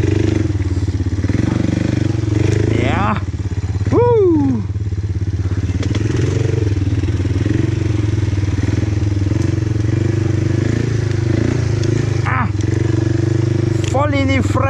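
Offroad vehicle engine revving in first gear at an offroad fun park, a steady loud low rumble throughout with short rising rev bursts, while people talk over it.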